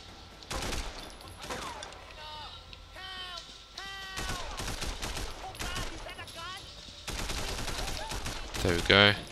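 Gunfire in the video game Sleeping Dogs during a final shootout: loud bursts and single shots recur through the clip, mixed with game effects, with someone talking over the action.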